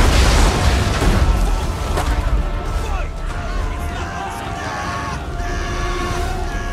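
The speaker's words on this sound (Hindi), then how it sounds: "जंग की गूंज और तोपों की गर्ज के दरमियान" Cannon fire and battle din from a staged Battle of Khanwa (1527) between Babur and Rana Sanga: a heavy, loud boom opens, then a dense rumbling clamour continues under tonal, music-like layers to the end.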